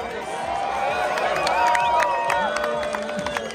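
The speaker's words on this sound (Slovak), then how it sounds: "To je potlesk, že som dokončil vetu." Crowd cheering and applause at the Red Bull Joyride 2022 mountain bike event, a steady wash of clapping and shouts throughout with whistles and mixed voices.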